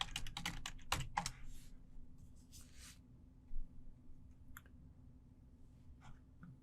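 Computer keyboard typing a search for Wireshark, a quick burst of close keystrokes at the start, then a few scattered isolated taps over a quiet background.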